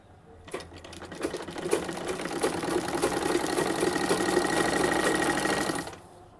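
A sewing machine runs steadily as it stitches the side seam of a dress, joining two layers from top to bottom. The close, loud, rapid mechanical clatter continues for several seconds before stopping.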